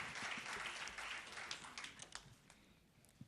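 An audience applauds a speaker called up at a formal debate, with a burst of dense clapping that thins out into scattered claps and then fades to near quiet.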